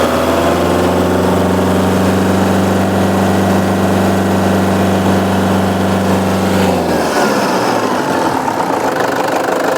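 The 2.5-litre diesel engine of a 2014 Toyota Innova runs at a steady, loud, clattering idle heard up close. Near the end the engine note shifts and the smooth hum breaks into rougher noise.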